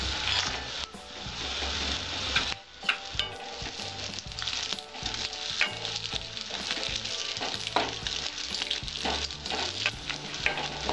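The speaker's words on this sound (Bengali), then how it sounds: "আমার কাজু কিশমিশটা ভাজা হয়েছে, কিশমিশগুলো বেশ ফুলে ফুলে উঠেছে" Cashews and raisins fry in oil in a pan for flattened-rice pulao, a loud continuous sizzle broken by scraping, clattering stirs of a spatula against the pan throughout.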